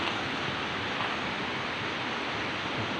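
A mountain waterfall in the Banthat range at Khuan Kalong, Satun, roars with a steady, dense, unbroken rush of falling water, loud and close, with no voices.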